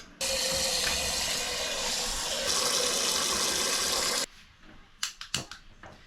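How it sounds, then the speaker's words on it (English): Tap water gushes steadily into a pasta pot for about four seconds, loud and close with a slight change in tone as it fills. The flow then stops, followed by a few sharp clanks and knocks. "Pot for the pasta. So we've got to fill her up."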